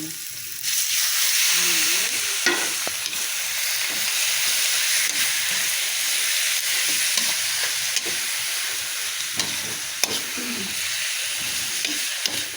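Marinated pork, soaked overnight in soy sauce and pepper for igado, hits a hot pan and fries with a loud, steady sizzle and hiss. Occasional stirring scrapes come through, and there is no talk.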